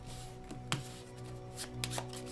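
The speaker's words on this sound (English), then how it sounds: "Alright, let's do some shuffling up." Playing cards being shuffled for the board game Tiny Epic Defenders, a few crisp riffling bursts and soft flicks close by at a low level, with no talking.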